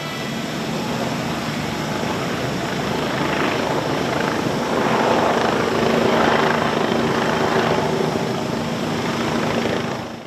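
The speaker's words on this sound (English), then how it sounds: "a 15-minute helicopter ride to the international airport" A helicopter on a 15-minute flight from San Ignacio to the international airport in Belize gives a loud, steady rotor and engine drone that holds for the whole stretch, with no voices.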